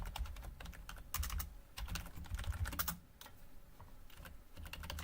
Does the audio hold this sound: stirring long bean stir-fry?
no